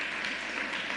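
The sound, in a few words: applause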